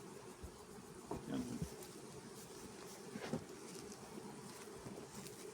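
Steady, quiet hum of many honey bees buzzing throughout, with a few louder passes of individual bees flying close.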